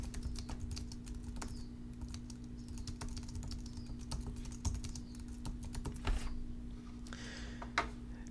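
Steady keystrokes on a computer keyboard while entering a description into a Salesforce record, the taps fast and irregular against a low steady hum in the room.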